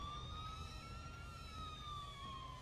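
An ambulance siren in the video game GTA IV wails steadily, its high tone sliding slowly in pitch over a constant low traffic rumble.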